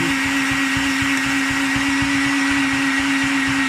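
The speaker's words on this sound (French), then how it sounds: "Pourtant, c'est un batteur de compétition qui date des années 20." A competition-grade electric hand mixer said to date from the 1920s or 1970s beats egg whites for tiramisu, giving a loud, steady motor whine with a fast rhythmic rattle underneath, close and unbroken.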